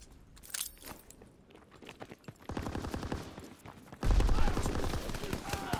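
Gunfire from the video game Call of Duty WW2 in a gridiron match: scattered shots and clattering bursts that swell into a loud, sustained volley near the end.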